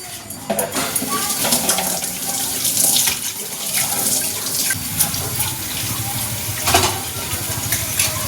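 Clothes being washed by hand under a running tap, the steady splashing water rushing close and continuously, with rubbing and sloshing throughout.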